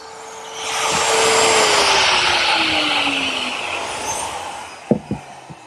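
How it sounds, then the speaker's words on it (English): A hand-held router fitted with a template guide collar whines steadily as it cuts away bad wood, slowing and tapering off before a few sharp knocks close the passage. "a router with this little collar, and I just remove the bad material to start"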